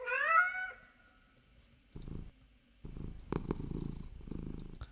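A cat's meow from the Stray video game opens the clip, a clear, close, drawn-out call followed by soft purring and brief rustling bursts.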